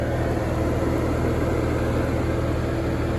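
A Porsche 986 Boxster's radiator fan running at low speed: a steady mechanical hum with a constant low drone, like a fan running under an idling engine, unchanging throughout.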